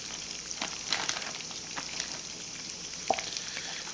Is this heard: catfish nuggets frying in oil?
yes